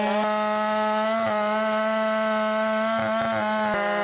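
A large 661C chainsaw runs at a steady, high-pitched, buzzing whine while processing charred timber on cracked ground. It stays loud and constant for about four seconds, with brief dips and stutters as the load changes.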